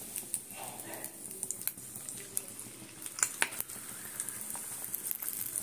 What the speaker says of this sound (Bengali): তেলটা দিলে পরোটাটা সুন্দর ভাজা হয়ে যাবে